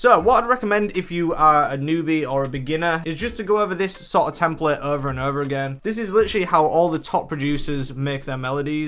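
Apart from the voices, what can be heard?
No distinct noise like a dog, phone or traffic.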